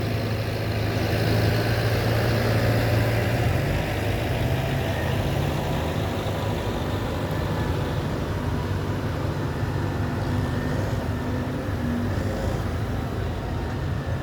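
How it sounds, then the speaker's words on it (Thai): A heavy diesel Kubota M108 tractor engine idles continuously with a steady low rumble and mechanical clatter, close and fairly loud throughout, at a pond-digging site. "รถไถก็ใช้เป็นรถไถร้อยแปดนะครับคูบต้า M108"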